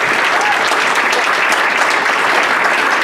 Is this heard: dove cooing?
no